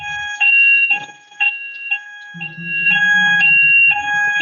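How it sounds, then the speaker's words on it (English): A household fire alarm shrieks in loud, repeated electronic tone bursts, each lasting about half a second, with a low humming noise joining partway through. "this is a fire alarm."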